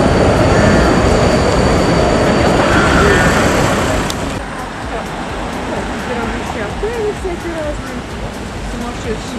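Trams running along a street in Vienna at night, a loud steady rumble and roll that eases off, then wheel squeal and whining tones drift through quieter traffic noise.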